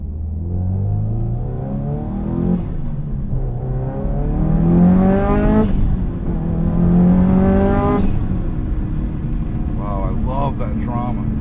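A 2005 Subaru WRX STi with a turbocharged EJ207 engine revving up through the gears while driving, loud rising engine tones broken by shifts, ending with turbo whoosh and flutter.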